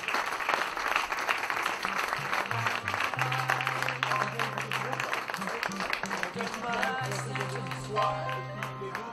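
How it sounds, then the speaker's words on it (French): A crowd gives thunderous applause for the Alinghi sailing crew, winners of the 79th Bol d'Or Mirabaud race in 2017; sustained clapping runs throughout while a voice and a musical tone sound over it. "Je crois qu'il mérite un tonnerre d'applaudissements, mesdames et messieurs."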